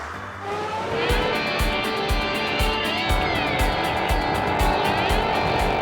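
On a Bangalore city road, a car engine revs hard and accelerates away, a loud, rising motor roar with some tire noise and steady traffic behind it.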